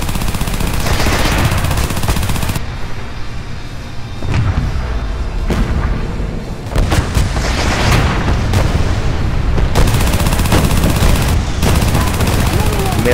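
A tank battle in the video game Renegade X, loud dense bursts of cannon and machine-gun fire with booming explosions, continuous over the whole stretch with brief dips between volleys.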